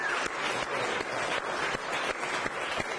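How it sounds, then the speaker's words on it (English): An audience at a fair grandstand lineup announcement in eastern Idaho claps steadily, dense applause from a crowd filling the whole moment without a break. "Let's get a round of applause for Indian Relay."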